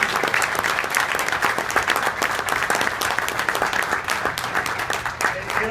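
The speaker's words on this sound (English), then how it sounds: "So give them all a big round of applause if you would." Hearty applause from a union meeting audience for its national officers, many hands clapping densely and steadily at close range with no speech over it.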